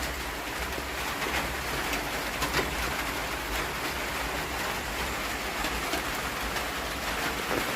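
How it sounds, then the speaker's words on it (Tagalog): Steady heavy rain pours down in a continuous hiss over a cemetery in Davao de Oro, with faint scattered patters and no voices, fairly loud and close. "Malakas yung ulan guys"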